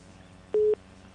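A single short telephone busy tone sounds after a dropped call-in on a sports talk show, a steady beep lasting a fraction of a second over faint background.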